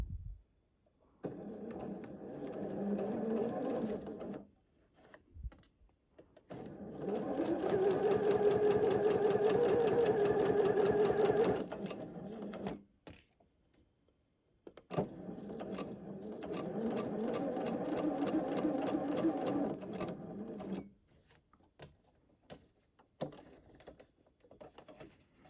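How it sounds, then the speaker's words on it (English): A sewing machine stitches a flying geese quilt block in three steady runs of several seconds each, separated by short pauses, with a close and even mechanical hum. "then you can just start sewing it"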